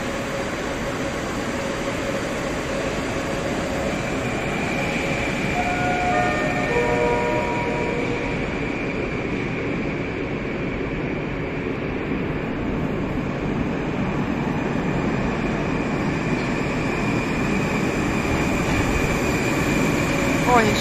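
A Moscow metro train runs between stations, a loud, continuous rumble and roar heard from inside the car, steady throughout with faint tonal whines rising briefly.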